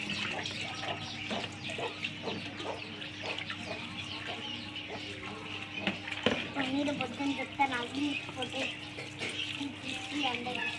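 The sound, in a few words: water poured over a slate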